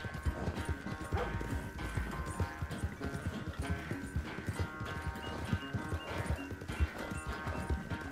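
Rapid rhythmic hoofbeats of a galloping horse in a video game pound steadily throughout, with a soft whinny partway through and a faint musical hum beneath.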